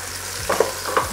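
Browned chicken pieces are turned in a frying pan: a steady sizzle with two quick, close scraping turns.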